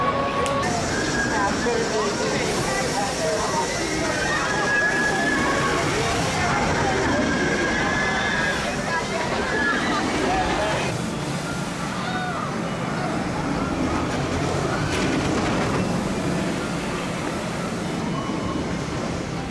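Candymonium, a roller coaster at Hersheypark, roars steadily along its track in a continuous loud rumble, with indistinct voices mixed into the ride noise.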